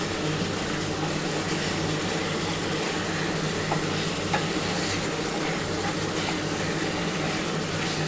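Coarsely crushed ginger and garlic fry for a chicken curry with a loud, continuous sizzle. Stirring runs through it and a low hum sits underneath, with no talking.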